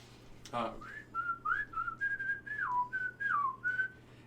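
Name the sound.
soft whistle imitating bird song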